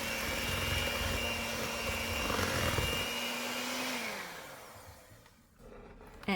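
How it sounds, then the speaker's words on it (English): An electric mixer whirs steadily while beating an egg into cookie dough for blueberry and white chocolate cookies, a close, even motor hum that drops in pitch and fades toward the end as the speed is lowered. "The mixer's job is done."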